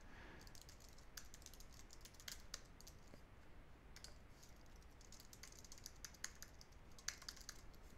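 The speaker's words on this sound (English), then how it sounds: "And let's type this out again." Steady keyboard typing on a computer keyboard while filling in a web form, clusters of quick light key clicks running throughout at a moderate distance.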